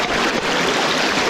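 Spirits Creek rushing over rocks at a trail crossing in the Ozark Highlands in December: a loud, steady broadband wash of flowing water, close by, with no talking.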